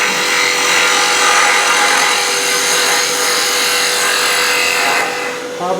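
Wood turned on a lathe in multi-axis work, cut by a gouge that needs sharpening, gives a loud, steady rushing scrape that runs almost unbroken and eases off near the end.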